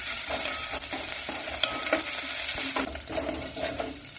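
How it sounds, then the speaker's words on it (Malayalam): Grated ginger and chopped green chili sautéed in hot spiced oil for a no-onion, no-garlic fasting thali, giving a steady close sizzle with scraping stirs throughout and no talk. "ഇതിലേക്ക് 1 ടീസ്പൂൺ ഇഞ്ചി ഗ്രേറ്റ് ചെയ്തതും 1 പച്ചമുളക് മുറിച്ചതും ചേർത്ത് വഴറ്റാം"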